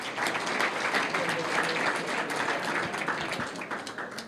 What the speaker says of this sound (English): I think everybody deserves a round of applause.